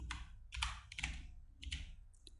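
Quiet close-up typing on a computer keyboard, a search being entered in DaVinci Resolve: several short bursts of key clicks with brief pauses between them, faint and uneven in rhythm.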